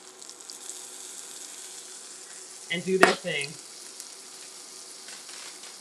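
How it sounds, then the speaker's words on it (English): Eggs cooked inside sliced pepper rings in a pan give a soft, steady sizzle throughout, with one brief louder clatter or stir midway and a person talking faintly over the frying. "Our eggs are sizzling."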